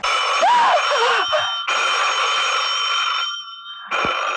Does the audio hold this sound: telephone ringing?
yes